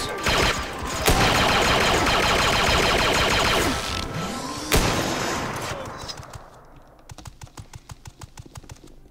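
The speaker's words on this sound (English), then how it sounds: "Someone's whipping out the guns." Blaster gunfire in the Star Wars game Starwind comes as dense, rapid volleys of shots and mechanical clatter, sharp cracks standing out, fading into a quicker rhythmic ticking at the end.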